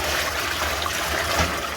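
Water trickles steadily while a milking bucket, stained brown, is rinsed out on a dairy homestead. The wash runs continuously and fairly close for the whole stretch, with no talk over it.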